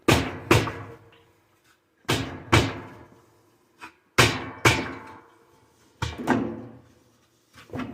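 Sharp, loud hammer blows strike a Whirlpool washing machine part to loosen it during disassembly, landing in pairs with short ringing decays and pauses between, close up with no talking.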